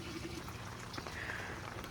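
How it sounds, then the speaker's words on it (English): Water from a fish tank holding koi and tilapia is poured onto a potted citrus plant in a container, a steady close trickle and splash of liquid soaking into soil, continuous for the whole moment with no talking. "so our last thing to do is water the plant."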